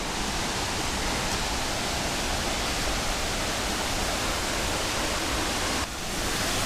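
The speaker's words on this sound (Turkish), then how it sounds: "Dere boyundan gidiyorsunuz küçük küçük şelale gibi oluşumlar da var sürekli olarak" Steady rushing water from a creek with small cascades along the Oylat Waterfall trail near İnegöl, Bursa, a constant, close, broadband flow with no voices.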